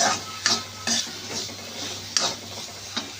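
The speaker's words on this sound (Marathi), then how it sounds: "आता हा कांदा टोमॅटो छान परतून घेऊया." Onion and tomato being sautéed in a pan while a spatula stirs and scrapes, giving several sharp metallic clinks over a soft sizzle.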